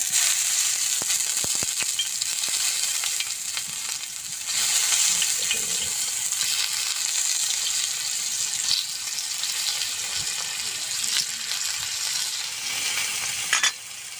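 Salted round potato slices laid one by one into oil on a hot tawa make a continuous bright, close sizzle that swells slightly in places, with no voices over it.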